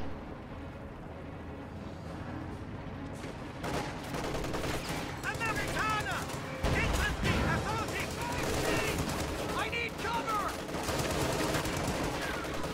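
A time-on-target artillery barrage thunders across a video game battlefield, mixed with dense, crackling rifle and machine-gun fire; the rattle runs continuously and peaks in a heavy, booming burst partway through.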